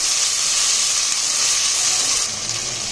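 Ginger garlic paste sizzling in hot oil with lightly golden fried onions for a Punjabi masala pumpkin dish, a loud steady bright hiss close by, easing slightly near the end.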